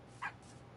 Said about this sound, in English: Got my dogs out there.